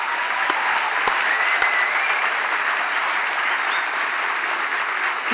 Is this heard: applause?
yes